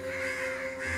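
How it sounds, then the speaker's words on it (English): Crows caw loudly and harshly in a dense, continuous chorus as a flock swoops down, the calls overlapping without any pause. "a flock of crows swooped down"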